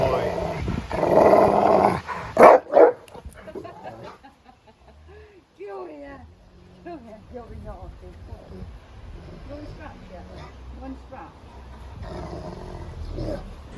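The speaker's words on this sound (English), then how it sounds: "When he barks and goes woo woo, it's not. It's just playing." A Rottweiler barks and growls playfully, with a loud burst of deep rough barking and growls early on, followed by quieter grumbling vocal noises and scattered sounds.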